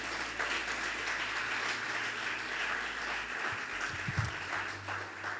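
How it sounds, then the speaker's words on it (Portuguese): A church congregation claps continuously through a worship service, dense, sustained applause filling the room, with faint voices underneath. "Pode dar um aplauso ao Senhor."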